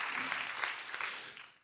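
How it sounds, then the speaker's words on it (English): Audience applause for the competing teams at a science contest, a brief dense wash of clapping that fades out at the end. "Let's give one big round of applause for the answers."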